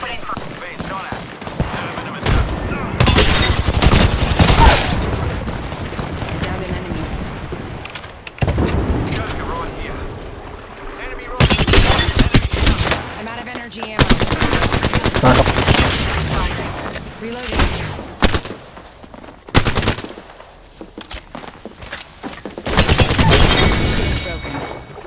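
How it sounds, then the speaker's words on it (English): Rapid, loud weapon fire in the battle royale shooter Apex Legends comes in several long bursts separated by short lulls, mixed with impacts and shattering effects, with in-game voice lines between the bursts. "Opening fire."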